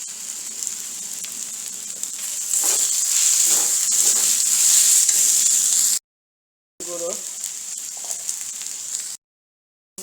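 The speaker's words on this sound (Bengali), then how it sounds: "উপকরণগুলোকে আমি ভালো করে ভেজে নিয়েছি।" Ginger-garlic paste and Kashmiri chili powder frying in hot oil for chicken biryani, a steady close sizzle that swells louder midway, broken by two short gaps of silence.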